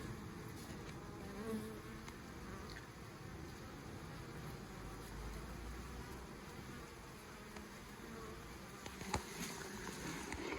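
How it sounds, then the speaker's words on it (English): Honey bees buzz steadily around an open hive, a dense, continuous hum of many insects close by with no talking. "As you can see, the bees are very, very busy."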